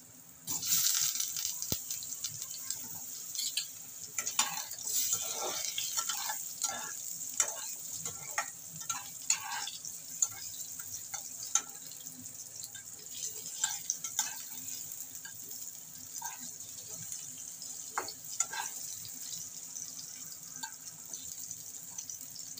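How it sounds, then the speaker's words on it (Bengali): Potatoes sizzling steadily in hot oil in a home kitchen, a continuous bright hiss with scattered pops and occasional utensil clinks, no voices. "প্রথমে আমি আলুটাকে ভেজে নেব।"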